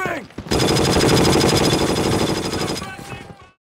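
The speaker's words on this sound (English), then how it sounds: "Oh, those are machine guns on our side, okay." A war drama combat scene in Band of Brothers carries a sustained, dense burst of close machine gun fire that rattles on for about three seconds, mixed with shouting and battle noise before it trails off.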